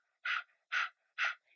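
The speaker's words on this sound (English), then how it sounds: "with our Kapalabhati breath, it's kind of similar to a dog panting" Three sharp, forceful exhalations of Kapalabhati yoga breathing, evenly spaced like a dog's panting, close and fairly loud with quiet breathing between.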